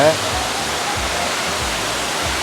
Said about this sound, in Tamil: ഈ വെള്ളച്ചാട്ടത്തിനെ കാണുമ്പോൾ ഞങ്ങൾക്ക് മാത്രമാണോ അല്ല എല്ലാവർക്കും അങ്ങനെ വല്ലാതെ ഒരു സ്നേഹം